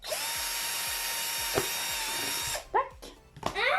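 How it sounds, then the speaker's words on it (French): A handheld power drill whines steadily at close range for about two and a half seconds, used while making a calm-down wheel craft. It then stops, and a few short knocks and rustles follow. "je vais finalement utiliser la perceuse"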